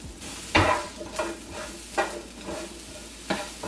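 Asparagus fries in avocado oil in a pan, a soft steady sizzle broken by a few sharper clacks as it is stirred, close up with no voices.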